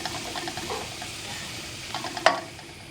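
Flour being roasted in a pan while stirred, a soft dry sizzle with light scraping strokes and one sharp utensil tap near the end, close and fairly quiet.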